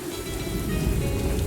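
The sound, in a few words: rain in a rainforest, from video game Morels: The Hunt 2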